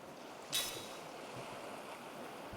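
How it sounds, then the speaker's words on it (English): Ocean surf from the video game Lost Odyssey rolls steadily as a soft, continuous wash of waves, with one brief brighter splash near the start and no talking. "I'll let you guys listen to the sounds of the ocean"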